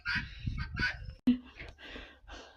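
A bantam hen with Cochin hens and roosters in a farmyard makes a run of close clucking calls, broken by one sharp, sudden squawk midway, then softer chatter that trails off.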